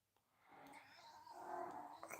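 A cat meows nearby in a long, drawn-out, rising wail that swells in loudness and then tapers off, faint overall and heard without talking.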